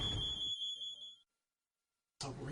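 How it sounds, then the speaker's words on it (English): A household smoke alarm sounding with a piercing, steady high-pitched tone that cuts off abruptly, followed by brief silence before it resumes loudly. "It's a smoke alarm."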